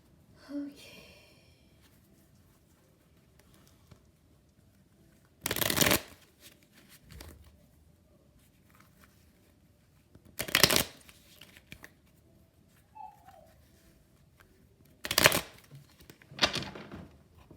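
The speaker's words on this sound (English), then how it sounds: "I'm gonna shuffle it again because that was a sloppy shuffle." Tarot cards get shuffled in several short bursts, each a crisp riffling flutter a second or so long, spaced a few seconds apart, with quiet handling and faint breathing in between.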